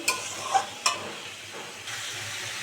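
Bottle gourd greens and mixed vegetables are stir-fried in a wok, with a soft sizzle under a few sharp scraping strokes of a spatula, fairly quiet and close.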